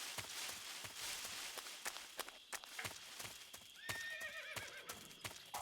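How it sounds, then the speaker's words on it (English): A horse in the video game Metal Gear Solid 3 whinnies faintly in a rising, quavering call near the end, over steady ambient noise and repeated clip-clop hoof sounds. "I know a horse when I hear one."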